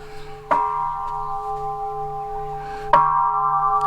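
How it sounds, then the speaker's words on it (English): Ceremonial bell on the western side of Oahu struck twice, each blow a sharp clang followed by a long ringing, humming tone that sustains between strikes, fairly loud with no talk over it. "when they have ceremonies here, they actually bang the bell here"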